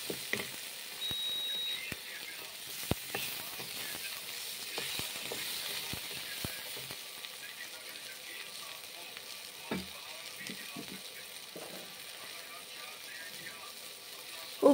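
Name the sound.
stirring food in a pan with a spatula (khunti)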